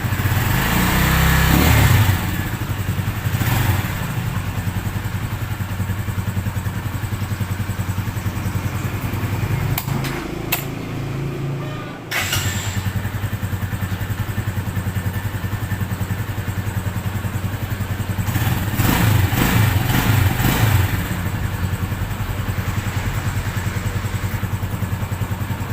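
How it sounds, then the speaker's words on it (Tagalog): A Rusi Macho TC 175 motorcycle engine idles steadily up close, switches off briefly midway, then fires up again and keeps chugging with a few throttle blips. "Ngayon patayin natin yung makina at buksan natin ulit."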